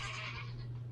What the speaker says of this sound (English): the goats are crying to be fed